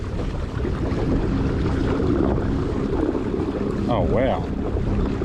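Watersnake T24 electric trolling motor in high gear pushing a kayak on open water, a steady broadband whir and water rush with wind buffeting the microphone, while a voice briefly exclaims near the end.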